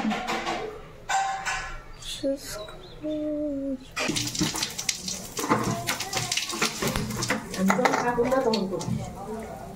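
Water runs and splashes as rice is rinsed several times in small amounts and the water poured off, in a home kitchen, with nearby talk and brief tonal sounds over the steady wash.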